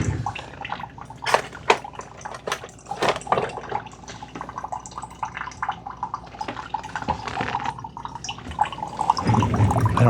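Water and vinegar trickle and drip unevenly with gurgling splashes through a Keurig K-Duo Gen 2 coffee maker descaling, running continuously at a moderate level close by.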